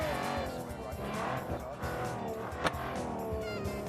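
An 1980s Group B rally car roars at full throttle in a racing video game, a loud continuous engine drone with a brief sharp spike partway through, while a person talks over it.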